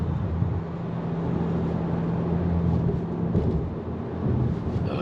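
Steady, loud rumbling road and engine noise filling the cabin of a Mercedes C43 driven in sport mode, a constant low drone with no voices.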